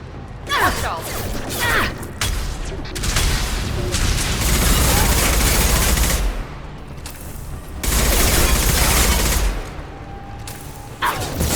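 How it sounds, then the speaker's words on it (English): Sustained gunfire rages through a Mass Effect 2 combat scene, with dense rattling bursts and heavy booms continuing throughout, loud and close, while squad voices call out over the fighting. "Taking fire. Taking cover."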